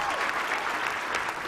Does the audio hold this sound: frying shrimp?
no